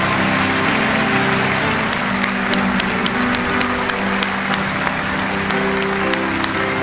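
Loud, sustained audience applause at a large church event welcoming guests, a dense continuous roar of many hands clapping with a held musical tone and voices faintly beneath.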